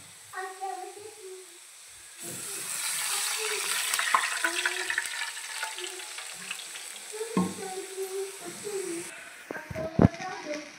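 Water is poured into a pan of roasted cumin while making jeera rice, setting off a loud rushing sizzle that settles into bubbling, ending with a couple of sharp knocks; a person talks quietly at the start and end.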